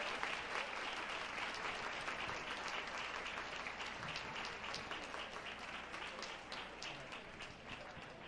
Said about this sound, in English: let's have a nice round of applause congratulating our contestants and,